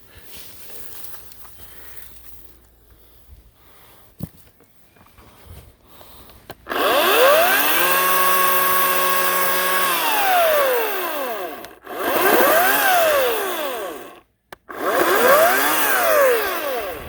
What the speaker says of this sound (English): chainsaw is definitely not happy with grass getting in it